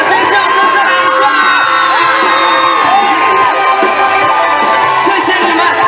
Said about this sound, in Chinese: 全场的尖叫声再来一下！